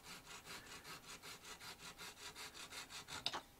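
Rhythmic rasping strokes of a hand saw cut a resin model kit strut up close, soft and regular, with a small sharp tap near the end.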